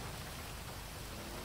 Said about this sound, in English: I know it's hard to hear with the rain